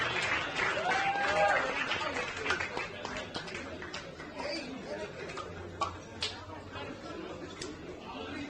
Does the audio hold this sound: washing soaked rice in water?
no